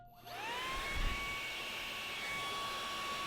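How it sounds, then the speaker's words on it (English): An RC electric motor spins up its propeller and blows air: a rising whine settles into a steady, loud high-pitched hum with a rushing airflow beneath, heard close and alone. "blowing air a little bit there"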